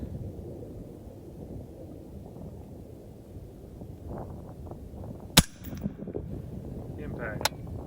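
A sharp rifle crack bursts out over steady gusting wind at a long-range shoot toward a black target with a white circle around 500 yards off, followed near the end by a second, shorter snap.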